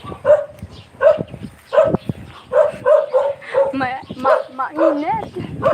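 Several dogs bark and yip repeatedly at close range outside a rural house in the Philippines, a busy run of sharp, evenly spaced barks with whimpering mixed in, while people talk over them.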